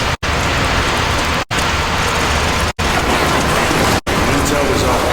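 Heavy rain on a wet night in the video game Call of Duty MW3, a loud dense steady hiss of downpour filling the scene, broken by three brief full dropouts.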